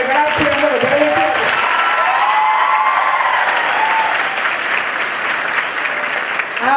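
A college lecture-hall audience gives sustained, dense applause to welcome the motivational speaker Jay Vasavada. The clapping is loud and continuous throughout, with a brief voice at the start.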